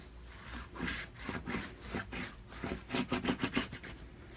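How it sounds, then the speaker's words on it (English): Paper is burnished firmly down onto a card in a crafting project, producing a rhythmic series of dry rubbing strokes, slower at first and then quickening into a rapid burst, close and fairly quiet with no talking. "so you want to burnish this down really, really well"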